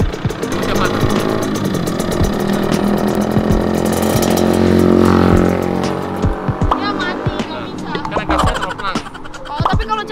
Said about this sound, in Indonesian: Ini namanya motor laki-laki nih.